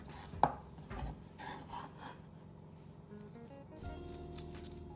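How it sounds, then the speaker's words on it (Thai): Garlic being chopped finely with a knife, with one sharp, loud blade strike followed by softer, irregular chopping taps and kitchen clatter. "จากนั้นก็นำกระเทียมมาสับเป็นชิ้นเล็กๆแบบนี้นะคะ สับให้ละเอียดนะคะ"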